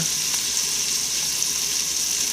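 Vegetables frying in a pan, a constant bright hiss of sizzling oil with faint crackles, close and steady throughout with no voices.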